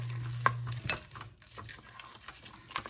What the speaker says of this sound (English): So I'm going to stir in my chocolate chips.